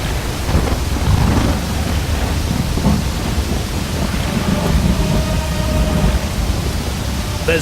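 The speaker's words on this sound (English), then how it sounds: "There's been a tumultuous rain, and it has flooded the whole area." Heavy rain pours down in a thunderstorm, a dense, loud roar with low rumbling thunder rolling underneath for the whole stretch, no voices.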